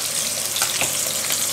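Chicken thighs fry in a non-stick pan over steady heat, a loud, continuous close-up sizzle with faint stirring bumps and no talking.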